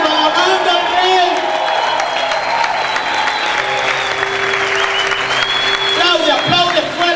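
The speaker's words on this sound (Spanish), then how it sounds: "Aplaude fuerte al Señor." A church congregation applauds loudly and steadily for several seconds during worship, with cheering voices and a preacher's voice carrying over the clapping.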